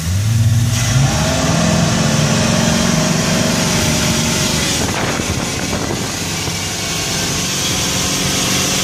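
The engine of a 2004 Cobalt 26 motorboat roars steadily and builds in power as it throttles up onto plane, loud and close, with wind buffeting the microphone throughout.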